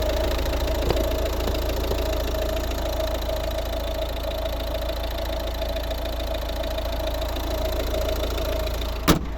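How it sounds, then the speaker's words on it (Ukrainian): A 2011 Volvo V50 1.6 D2 diesel engine idles steadily with a low, even rumble and a faint tonal hum, ending with a brief click. "У нас робота двигуна."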